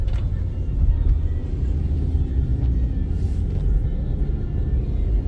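A 2012 Jeep Patriot on the road gives a steady low engine and tyre rumble from inside the cabin, continuous and fairly loud, with no one talking.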